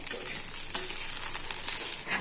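Pasta with chili sauce being stirred in a hot pan, a soft continuous sizzle with faint scraping strokes of the spoon, fairly close and low in level, with no talk.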